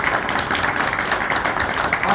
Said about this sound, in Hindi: इस बार जरा बलराम भाई जी के जोरदार तालियां बजाइएगा